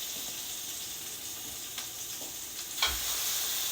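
Short ribs sear in vegetable oil in a hot pot with a steady, quiet sizzle and hiss, a few soft clinks and a faint thump near the end, no voices.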